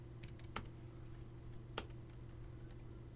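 Router configuration commands are typed on a computer keyboard: a few sparse, quiet key clicks, with two sharper taps standing out over a steady low hum, and no talking.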